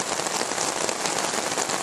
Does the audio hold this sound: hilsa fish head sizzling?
no